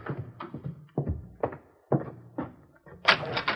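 Knocking at a door in an old radio drama, heard as a series of separate close raps and thuds, some louder than others, with a few short bursts of other sound near the end.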